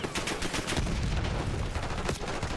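Dense gunfire in Black Ops 6 multiplayer rattles continuously in fast, overlapping shots and booms for a few seconds, loud and busy with no clear gaps.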